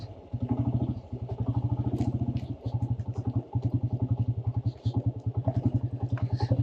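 A motorcycle coasting downhill in neutral out of the Kalash Valley makes a rapid, steady mechanical chugging throughout, close and fairly loud, with brief dips and a little rattling over the top.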